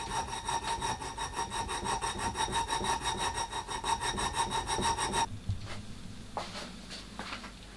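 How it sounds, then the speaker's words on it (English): Filing the lower jaw of a knife jig square so it can take a coach bolt: quick, steady back-and-forth rasping strokes, close and even for about five seconds, then they stop and only a quiet background is left. "The lower jaw was then filed square to take a coach bolt."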